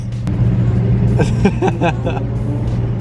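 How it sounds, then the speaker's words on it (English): A Porsche engine roars nearby among other performance cars in street traffic, a steady low rumble with rising rev bursts midway, mixed with voices talking over it. "that Porsche sounds crazy"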